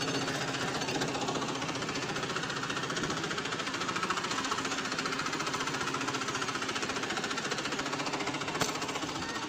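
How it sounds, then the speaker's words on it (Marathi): A tractor engine chugs steadily in reverse while backing out of a farm gate in a village yard, a loud, close, continuous rhythmic knocking with no voices. "चला आता जाऊ रिवर्स गेअर मारून."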